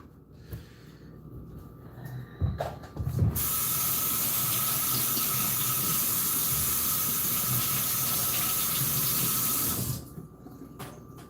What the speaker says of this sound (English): Quick wash on the peppers.